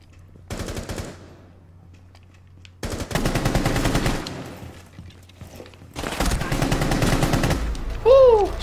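Automatic gunfire from Rainbow Six Siege, heard in three loud sustained bursts of rapid shots separated by short quiet gaps, with a brief electronic game tone at the end.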